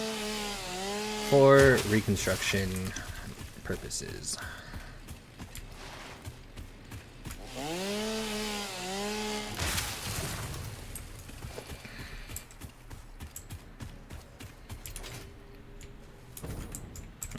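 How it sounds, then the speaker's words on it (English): A chainsaw cutting in the video game Satisfactory, rising and falling engine whines in several bursts, with clattering impacts and someone talking briefly. "Chainsaw"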